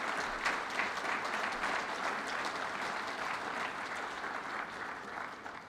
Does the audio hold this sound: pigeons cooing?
no